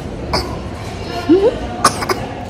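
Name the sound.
child coughing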